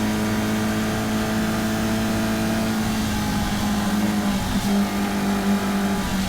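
Caterham Roadsport race cars at Cadwell Park circuit, engines droning and revving in a sustained loud pack with pitch shifts as gears change, no talk over the engine noise.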